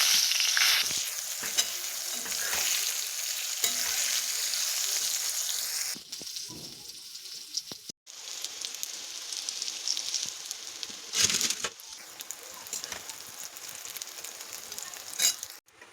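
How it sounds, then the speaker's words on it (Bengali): Soybean chunks fry in oil with bay leaf, a loud, dense sizzle broken by stirring scrapes and a few short pauses, close and continuous. "তো তার মধ্যে এবার আমি সয়াবিনগুলো দিয়ে নিয়ে এবার ভেজে নেব।"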